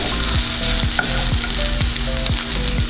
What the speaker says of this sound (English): we're going to stir it and combine everything well